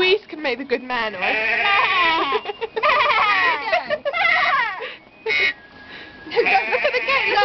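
A goat at Alton Towers bleats repeatedly in loud, wavering cries, with a person's voice mixed in among the calls up close.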